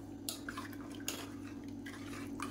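Utensil clinking and scraping against a pot while curd is stirred into a thick ragi and black rice porridge, with a steady low hum in the background.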